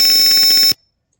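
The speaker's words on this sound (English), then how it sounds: "when the density of the gas is higher than the permissible value, the buzzer and LED are turned on" A gas detector's buzzer alarm sounds in a loud, steady high-pitched tone with rapid pulsing, running about three quarters of a second before cutting off abruptly into silence.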